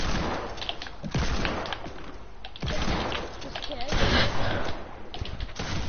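Rapid gunfire in a Fortnite match, with dense bursts of shots and impacts crackling continuously, loud and busy, mixed with game effects and a player talking over it.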